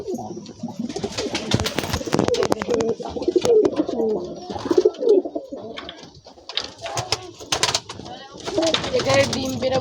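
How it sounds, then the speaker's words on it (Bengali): Pigeons coo repeatedly at a nest with eggs and a chick, soft throaty rolling calls close by, mixed with a person speaking over them. "চলুন পায়রা দেখুন।"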